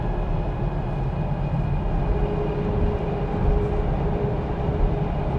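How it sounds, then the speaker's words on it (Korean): A loud, steady low rumble of a dump truck rolling close by, heard from inside a Polestar 2 electric car, echoing and droning continuously inside a tunnel. "지금 덤프 트럭이 바로 옆에 있거든요."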